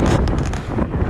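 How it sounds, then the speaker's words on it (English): Wind blowing outdoors near bird feeders in a natural setting, a steady low rumble of gusts buffeting the microphone with some rustling, loud and continuous. "it's windy, so I don't know if I'm able to be heard"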